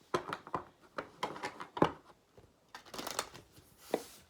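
A deck of oracle cards is shuffled by hand in a series of quick riffling, flapping bursts with short pauses between them, close and fairly quiet.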